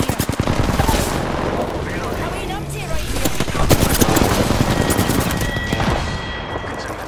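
Rapid gunfire in the video game Apex Legends, dense bursts of automatic shots and fusillade sustained throughout, loud and close, with a voice talking over the shooting.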